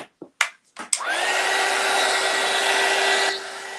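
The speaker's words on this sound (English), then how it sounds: "we're going to hit it with the heat gun again." Heat gun blowing hot air over paint on a Christmas snow globe sign, a steady loud rushing whir starting after a few brief knocks and holding before easing slightly near the end.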